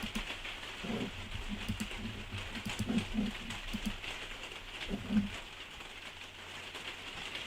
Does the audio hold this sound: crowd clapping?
no